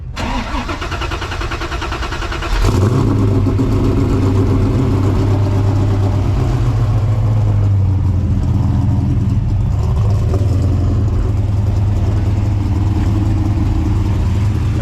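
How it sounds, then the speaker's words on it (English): A supercharged 363 cubic-inch V8 in a Fox-body Mustang notchback coupe cranks and fires up after a couple of seconds, then settles into a deep, loud, rumbling idle with throaty exhaust, steady and close. "We can get a little crank up and maybe hear some exhaust sounds"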